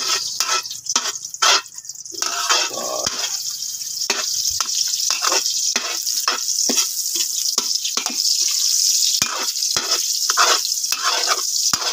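Onion frying in a pan while cooking pako and labong, a bright steady sizzle broken by repeated quick stirring scrapes and clacks of a utensil throughout.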